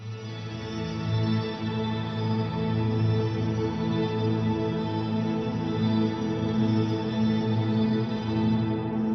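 Ambient electric guitar played with rapid tremolo picking through a shimmer effect patch, giving a dense, sustained wash of layered, reverberant tones that hold steady and full throughout with gentle internal movement.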